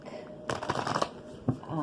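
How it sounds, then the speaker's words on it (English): Oracle cards are shuffled by hand in quick, soft riffling bursts close to the microphone, with a short pause before a final snap of cards. "Let me get an oracle card for you first."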